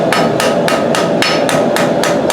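A hammer strikes hot knife steel on an anvil while forging a lion knife, six or so sharp, ringing blows in a steady, even rhythm, close and loud with no talk.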